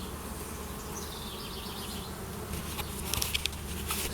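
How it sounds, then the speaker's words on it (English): Honeybees buzz at a hive entrance, some carrying heavy pollen loads, with a steady drone throughout, individual bees passing near and far, and a few brighter flickers of wings toward the end. "There's one right there buzzing around with pretty heavy pollen sacs."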